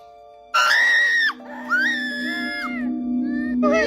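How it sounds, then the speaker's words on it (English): A family screaming in fear as a toy falls off a kitchen counter, with loud, sustained shrill screams from several people close by, overlapping and then trailing off before another brief shriek. "The family screams in fear as the toy falls off the counter"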